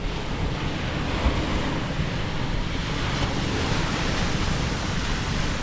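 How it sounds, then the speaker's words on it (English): Ocean surf washing onto the shore in Pinamalayan, Oriental Mindoro on a calm morning, a steady broadband roar of waves with some wind noise, continuous and fairly close. "we're right on the ocean here"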